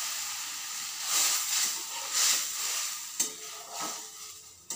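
Potatoes and bitter gourd cook in a pan as roughly 250 ml of water goes in, bursts of steamy hissing and sizzling swelling and fading, with a few light clanks, close and moderate.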